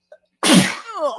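A man sneezes once, loud and close, a sharp explosive burst after a brief intake of breath, trailing into a short breathy exhale at a live podcast event.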